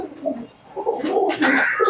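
A female Andhra pigeon coos close by, a short run of soft, throaty coos rising into a louder burst near the end.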